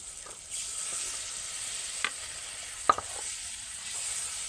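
Water poured into a frying spice paste for a cauliflower, egg and potato curry sets off a steady sizzle, with a few sharp clinks and scrapes of stirring close by.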